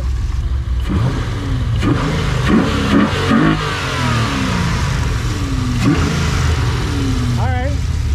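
A cammed G8 car engine revs loudly and close by in repeated rising blips over a choppy idle, with people talking over it.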